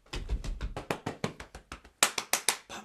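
Close hand claps in a quick pattern of groups, finishing with four strong, bright claps in a row.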